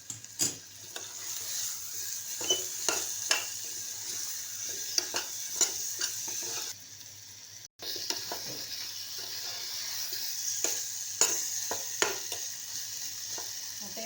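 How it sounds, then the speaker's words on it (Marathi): Drumstick pods and coriander are stir-fried in a pan, giving a steady close sizzle. Repeated scraping stir strokes run across it, a brief gap comes midway, and no one speaks. "आता याच्यामध्ये आपण शेवग्याच्या शेंगा घालूया आणि कोथिंबीर आणि चांगलं परतून घेऊया"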